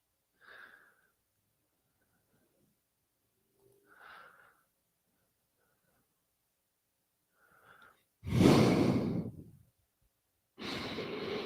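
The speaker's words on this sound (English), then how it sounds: "Hear me breathing into the microphone?" Close breathing into a microphone: three soft, widely spaced breaths, then a loud rushing exhale directly on the mic and a further sustained blast of breath, with silence between.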